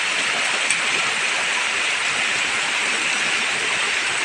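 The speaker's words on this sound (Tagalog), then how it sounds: "Sana huwag magtagal ang ulan." Heavy rain pours down in a dense, constant roar, loud and close throughout with no voices.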